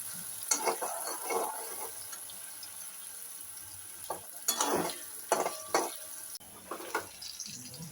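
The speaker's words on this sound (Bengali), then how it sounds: "এবার পেঁয়াজ কুচিগুলোকে সুন্দর করে ভাজছিলাম যতক্ষণ না পর্যন্ত লাল লাল হচ্ছে" Chopped onions and two green chillies frying in oil in a pan, with a soft sizzle under intermittent scraping bursts of stirring, fairly quiet and close.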